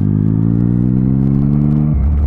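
A Triumph Street Triple 675 motorcycle engine revs loud and close, a sustained rising growl that cuts off sharply near the end into a lower idle.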